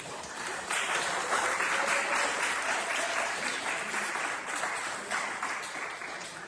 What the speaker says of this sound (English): Again, let's give a round of applause to the judges.